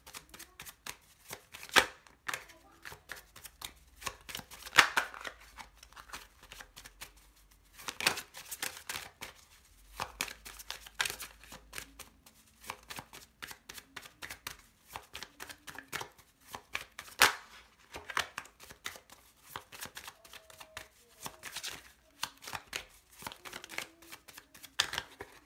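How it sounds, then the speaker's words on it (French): A deck of tarot or oracle cards is shuffled by hand, giving repeated quick riffling and slapping bursts in an uneven rhythm, close and clear with no talking. "ça m'empêche pas de battre les cartes"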